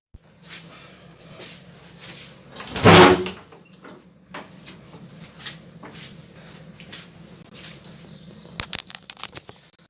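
An outside door of a house is opened during a power cut: one loud scraping, rattling burst, then quieter clatter and scattered small clicks in an otherwise calm room.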